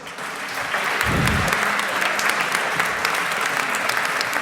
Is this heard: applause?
yes